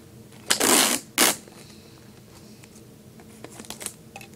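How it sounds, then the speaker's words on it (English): Scotch tape being pulled off the roll and pressed onto paper for a paper model, two loud ripping strips close up followed by soft handling rustles, without talk. "And then you want to tape it there."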